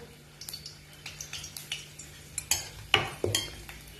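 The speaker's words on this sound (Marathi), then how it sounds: "आपण आधी लसूण टाकून तो फ्राय करून घेणार आहोत" Garlic fries in a steel kadhai for pithla while a utensil stirs it, giving sharp metallic scrapes and clinks over a soft background sizzle.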